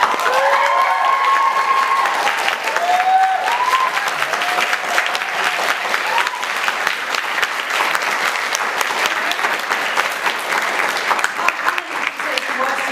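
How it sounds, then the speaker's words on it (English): Theatre audience applauding at the close of a performance of The Tempest, dense sustained clapping filling the room from start to finish, with a few faint voices and cheers mixed into the crowd. "Give it up for Tim and Jamie, everyone"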